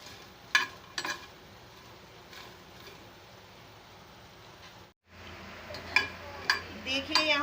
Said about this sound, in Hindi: तो यहाँ पर हम सबसे पहले इसमें गोल मिर्चों को भून लेंगे